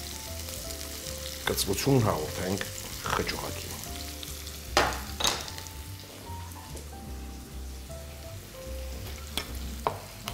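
Onion and red hot pepper sizzle and crackle steadily in a pan, with occasional stirring scrapes. A voice speaks briefly over the frying.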